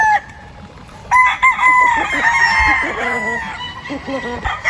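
Pikum gamefowl roosters on a farm crow loudly and cluck nearby, with overlapping calls from several birds in a busy, close chorus.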